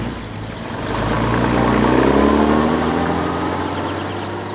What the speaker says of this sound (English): He's going in his truck.